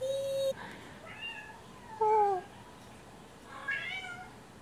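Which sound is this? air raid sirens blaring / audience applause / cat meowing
cat meowing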